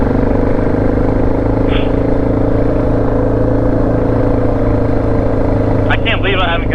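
A Honda XR650L dual-sport motorcycle rumbles steadily along an old rail trail, its engine drone loud and constant throughout, with a brief clatter and a rider's voice briefly breaking in near the end.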